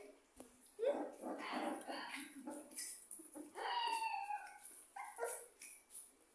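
A dog yips, howls and barks in bursts during play, close and lively, mixed with people talking.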